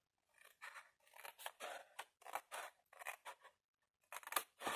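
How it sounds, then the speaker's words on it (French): Scissors cutting paper along a fold, a series of close crisp snipping bursts in uneven rhythm with short pauses between cuts, quiet overall. "Vous allez couper ici jusqu'au deuxième pli."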